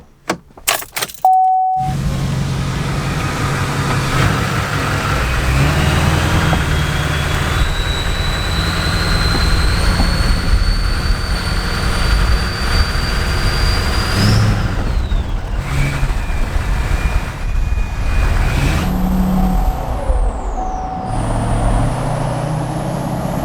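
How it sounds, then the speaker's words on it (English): A truck out for a cruise, its engine droning steadily and loud with rising and falling revs as it accelerates and shifts, after a brief jangle of keys at the start; no voices. "it's been too long since we've taken this truck out, so we got to go for a little cruise"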